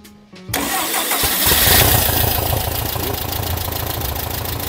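A car engine cranks on the ignition switch and catches, settling into a loud, steady running rumble that continues to the end, with no talk over it.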